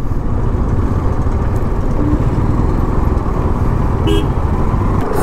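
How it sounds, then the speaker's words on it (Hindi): Heavy traffic jammed with trucks at a Madhya Pradesh check post and toll, heard from a motorcycle: a loud continuous engine and road roar, with a brief horn toot near the end. "एमपी के चेक पोस्ट पहुंच गए, यहाँ पे ट्रैफिक इतना ज़्यादा लगा हुआ है"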